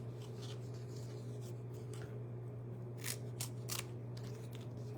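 Scissors cutting paper for a stamping and stencil craft, several quick crisp snips clustered near the end over a low steady hum, fairly quiet and close.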